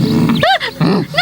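Cartoon dog growling and snarling in an animated children's show, loud and close in short rough bursts with a brief gap, no talk over it.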